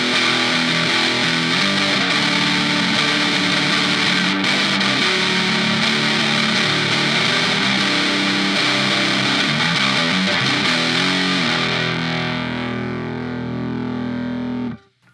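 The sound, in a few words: electric guitar through Donner Extreme Driver pedal, distortion maxed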